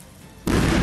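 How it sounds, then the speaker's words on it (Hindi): A gas cylinder explodes inside a burning shop, a sudden loud broadband boom that cuts in halfway and stays as a sustained roar over quieter fire noise. "दुकान में रखे सिलेंडर में जोरदार धमाका हुआ"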